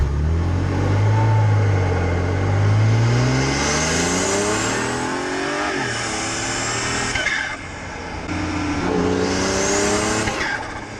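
Tuned 539 bhp BMW 335i Touring on the road, with hybrid turbochargers, engine revving hard through rising and falling gears, loud and close, with repeated surges of acceleration.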